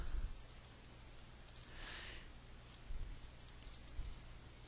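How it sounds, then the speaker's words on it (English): Someone types on a computer keyboard, a few faint, quiet clicks in short bursts over a low background hum. "I'm going to type in"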